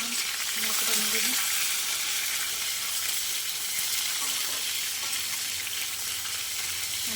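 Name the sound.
hog plum (amra) frying in hot oil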